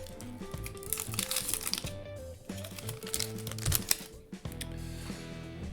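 A 2026 Bowman baseball card blaster pack being torn open and its foil wrapper crinkled, a close run of crackling, rustling and ripping bursts with short pauses between them.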